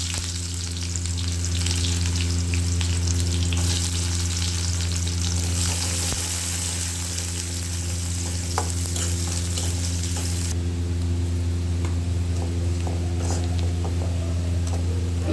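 Chopped onion frying in hot oil with cumin seeds, a steady, close, dense sizzle that holds evenly throughout over a low constant hum, with no voices.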